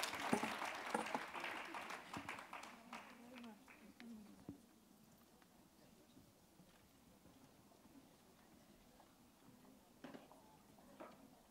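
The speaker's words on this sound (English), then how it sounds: "Big applause to everybody" An audience at a women political leaders' global summit gives a faint, scattered round of applause that fades from a fuller start into sparse claps, with talk heard through it.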